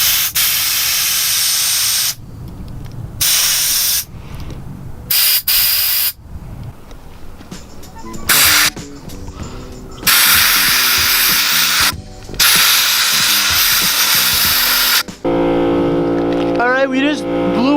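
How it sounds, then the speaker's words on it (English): An air compressor nozzle blows grime out of a BMW E90 VANOS part in loud, harsh hissing bursts of varying length, separated by brief pauses, with some clanking of the part near the end. "Now I have the air compressor all hooked up, and people were saying to blow out whatever grime was in here"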